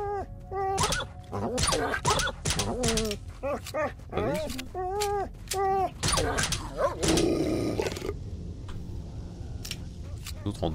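Mutant dogs snarl and growl in S.T.A.L.K.E.R.: Shadow of Chernobyl, a pack of rough, wavering growls and yelps layered close together, fading into gunfire and ambient noise toward the end.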